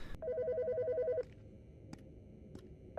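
An electronic phone in a video game rings in a rapid warbling trill for about a second, then stops, leaving a low room hum with a few faint clicks afterward.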